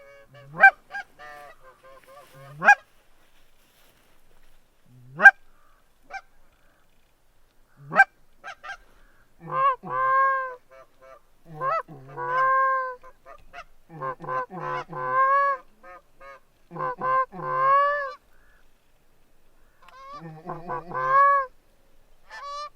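Geese honk repeatedly, scattered single calls at first, then a busier run of overlapping honks, fairly close and clear against quiet, during an early goose hunt.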